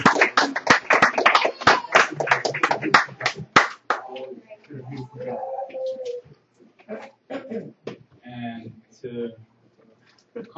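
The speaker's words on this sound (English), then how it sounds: "Give her a round of applause." Round of applause at a church youth empowerment event, dense clapping from a crowd for about four seconds, then fading into scattered claps and someone speaking.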